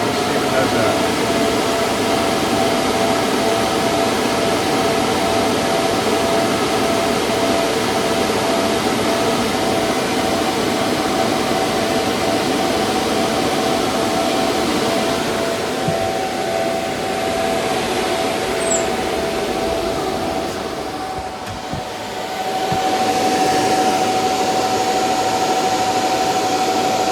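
Cryptocurrency mining fans running with a steady, loud whirring drone and a constant tonal hum, easing down briefly near the end before carrying on at full speed.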